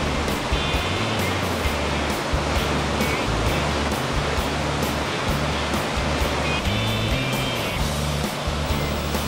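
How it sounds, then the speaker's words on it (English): Free-flowing whitewater on the Selway River, a wild and remote stretch with difficult rapids: a loud, steady roar of rushing water that fills the whole clip without pause or talk. "rapids."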